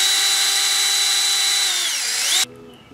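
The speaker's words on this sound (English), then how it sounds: "I'm just gonna drill straight between the two pinchers as deep as I can get it" A power drill bores into a handmade crawdad fishing lure between the two pincher claws, giving a loud, steady whine for over two seconds before stopping abruptly and leaving only quiet room noise.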